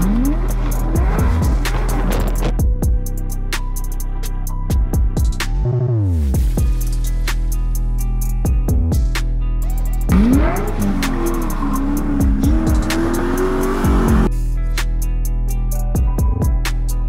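A salvaged Factory Five GTM sports car engine roars and revs repeatedly, pitch climbing and dropping through gear changes, loud and close throughout.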